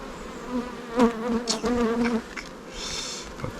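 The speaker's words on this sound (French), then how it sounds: "Ouais, il y a de l'abeille là." Honeybees buzz steadily around a hive made from an artificial swarm, a close, wavering drone that swells and fades for several seconds with no talking.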